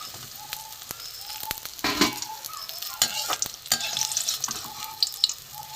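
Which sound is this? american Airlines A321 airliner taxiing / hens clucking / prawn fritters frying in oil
prawn fritters frying in oil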